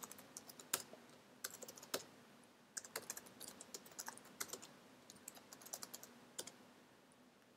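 Steady typing on a computer keyboard during data entry in Oracle E-Business Suite R12, with irregular clicks, occasional louder key strikes and short pauses, fairly quiet and close.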